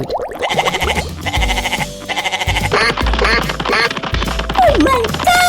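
A goat in a 3D animal sliding video game bleats in repeated wavering, nasal calls, loud and close, over bouncy game music and cartoon sound effects.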